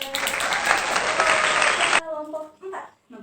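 Classroom applause for a top-scoring student group during a teaching exam session, a loud burst of many hands clapping that cuts off abruptly partway through, followed by a speaking voice.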